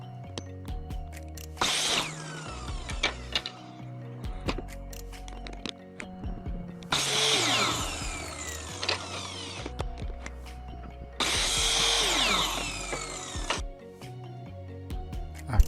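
Power tool cutting wood strips and 1-inch PVC molding, heard as three separate loud bursts of a couple of seconds each with quiet pauses between, close up and with no talking.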